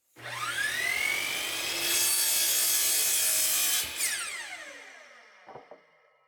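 A power saw spins up with a rising whine and bites through a wooden face frame part cut to length for a kitchen wall cabinet, a loud steady cut, then the blade winds down with a couple of knocks.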